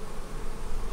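Honey bees swarm over an open hive box in a farm bee yard, a dense, loud, continuous buzz that fills the whole brief moment.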